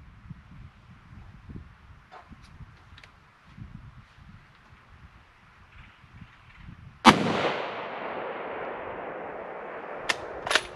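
A single sharp, loud rifle shot fired freehand at a target 600 yards away cracks out after a stretch of quiet wind and rustling, trailing a long decaying echo, with a fainter second report near the end.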